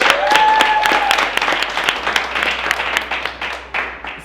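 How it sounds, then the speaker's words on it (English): Applause from a studio audience at a reality show reunion, a dense wash of clapping that is loud at first and thins gradually toward scattered claps, with a brief whistle-like tone early on. "Let's give a round of applause for that."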